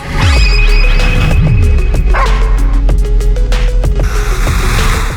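A dog barks and yips in short bursts close to the microphone, loud over an ongoing musical backing with no talk.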